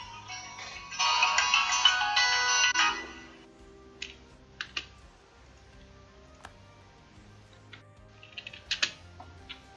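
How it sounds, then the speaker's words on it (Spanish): A phone ringtone plays loudly for about two seconds as a bright, busy melodic burst, then gives way to scattered faint clicks and taps in a quiet room. "Perdonad que me han llamado al teléfono"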